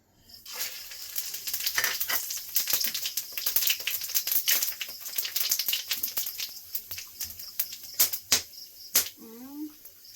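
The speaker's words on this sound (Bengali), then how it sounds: "সর্ষের তেল দিয়ে দিয়েছি, গরম হয়ে গেছে। ফোড়নে দেব তেজপাতা, জিরে, এলাচ, দারচিনি।" Whole bay leaf, cumin, cardamom and cinnamon hit hot mustard oil in a pan, giving a steady bright sizzle with sharp crackles and pops, close and fairly loud, with a brief scrape near the end.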